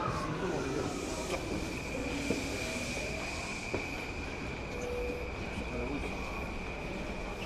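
A Tokyo commuter train running toward Ikebukuro and Shinjuku fills the space with a steady rumbling roar and a sustained high wheel whine, with a couple of faint clicks.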